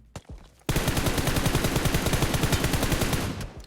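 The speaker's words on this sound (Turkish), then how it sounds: "arkadan birisi sıkıyor" Fast automatic gunfire in PUBG Mobile, a brief pop then a sustained loud burst of rapid rhythmic shots lasting about three seconds, close and dominant with no talking.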